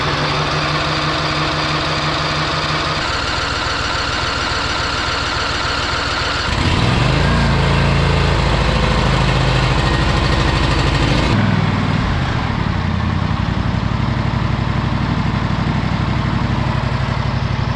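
A lawn tractor engine, fitted with a new battery, fresh oil and new spark plugs, cranks and fires up close by, then settles into a loud, steady idle with a rough mechanical drone that shifts pitch partway through.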